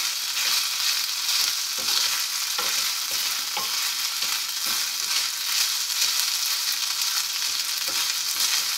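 Garlic shrimp sizzling steadily in a stir fry pan with parsley, a constant loud crackle with small pops and scraping stirs throughout, no voices.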